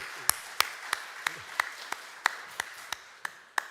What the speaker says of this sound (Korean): 우리 저 집사님들 박수 한번 해야 돼